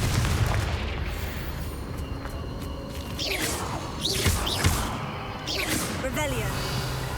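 Confringo fire-blast spell in Hogwarts Legacy on PS5, heard as repeated whooshing bursts and booming impacts mixed with game sound effects, while a player talks over the action.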